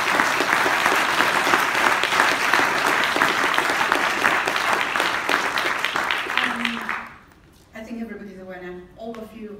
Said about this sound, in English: Can I ask you for a round of applause for all of them?